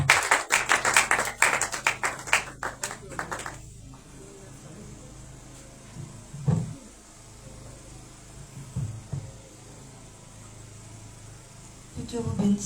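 Applause and clapping from a congregation at a Shavuot church service fade out over the first few seconds, leaving a quiet room with a few faint shuffles and a swell of sound at the end.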